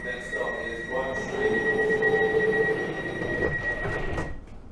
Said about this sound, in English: The train is now ready to depart.